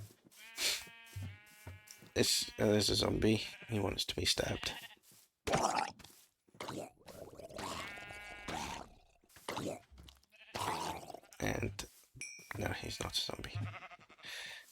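Sheep in a Minecraft multicoloured sheep farm bleat several times in short bursts, heard between and under people talking during play.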